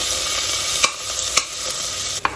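A bay leaf, onion and crushed ginger and garlic fry in a pan with a loud, continuous sizzle, broken by a few sharp clicks of stirring. No one talks.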